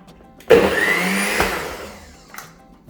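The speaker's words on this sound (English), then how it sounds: "So I'll put it in here in a blender or a food processor" A blender or food processor whirs loudly as it grinds bread into crumbs, starting abruptly and holding a steady high whine for about two seconds before tapering off.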